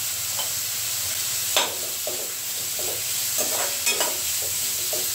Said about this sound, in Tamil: இப்போ வெங்காயத்தை இதை நல்லா வதக்கிக்கலாம்.